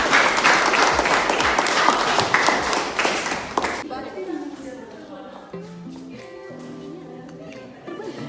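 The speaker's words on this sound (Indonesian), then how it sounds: "kita berikan tepuk tangan untuk teman kita" An audience applauds during a classroom teaching-practice session, a dense burst of clapping for about four seconds that then cuts off as a voice continues speaking.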